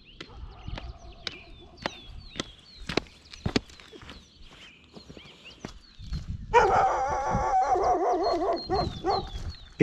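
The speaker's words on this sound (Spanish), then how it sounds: "los perros sueltos, pero bueno, no se animan" Loose dogs bark along a roadside near Lago Fagnano in Patagonia at early morning, several sharp barks scattered and fairly close, then a louder continuous noise of a vehicle or movement takes over for the last few seconds.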